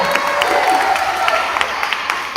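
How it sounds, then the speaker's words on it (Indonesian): Applause for speakers at a talk fills a hall, a steady patter of many hands with sharper individual claps on top, moderately loud and continuous. "Tepuk tangan buat mereka-mereka yang sudah berbicara."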